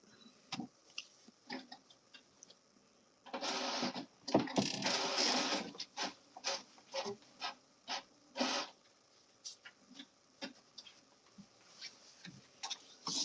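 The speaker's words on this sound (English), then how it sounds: "It's a lot of printer ink for this one." A printer printing a cover heavy with ink makes repeated short mechanical passes, clicking and whirring in uneven bursts separated by brief pauses, close by and moderately quiet, with no talk.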